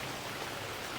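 Light rain falls as a soft, even hiss with no breaks, faint and distant through the whole short moment.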